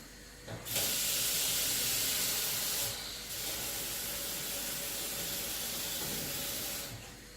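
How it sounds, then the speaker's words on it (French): Water poured into a pot of hot palm oil for smoked cotis with red beans, an abrupt loud steamy hiss that holds steady for several seconds, dips briefly, then carries on before cutting off. "Donc là, je vais rajouter de l'eau"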